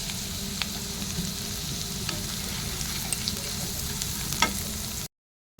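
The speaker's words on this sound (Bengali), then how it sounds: "মাছের ডিমগুলো দিয়ে ভালো করে ভাজবো, নইলে কাঁচা গন্ধ করবে।" Fish roe sizzles steadily in a hot pan while being stirred, with a few sharp scrapes breaking through the constant frying hiss; close and fairly loud, no voices, ending in a brief silence.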